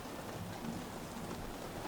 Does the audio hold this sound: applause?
no